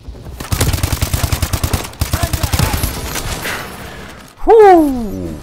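Suppressed AK rifle fire in the video game Advanced Warfare comes as rapid, even bursts of muffled shots, two strings in quick succession, followed by a loud swooping game effect with falling tones.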